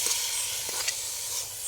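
Ponaganti greens land in hot masala in an outdoor village kitchen, giving a continuous close sizzling hiss with a couple of faint stirring scrapes.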